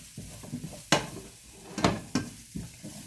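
Vegetables for a kale and cauliflower salad get stirred in a hot pan on an electric stove, with steady sizzling broken by several sharp scrapes and clatters of a utensil against the pan.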